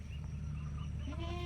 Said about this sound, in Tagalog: Pasok tayo dito sa kulungan ng kanilang manok.